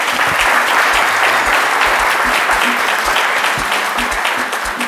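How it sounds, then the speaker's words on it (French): An audience applauds after a dance performance, loud continuous clapping with a rhythmic low thumping beat running underneath, steady throughout. "On applaudit encore bien fort."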